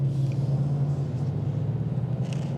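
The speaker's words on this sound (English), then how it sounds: "A lot of traffic out today." Steady low road rumble of passing traffic heard from inside a 2024 Toyota Land Cruiser 1958 edition driving at night, a continuous engine and tyre drone without distinct pass-bys or speech.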